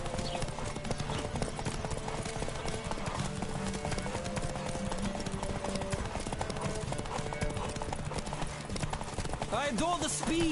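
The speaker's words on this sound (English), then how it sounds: "Don't spare the horse." Hooves pound in a fast, continuous gallop as a horse races along in The Witcher 3, loud and close, with wind noise and layered game sounds and brief voices mixed over the rhythm.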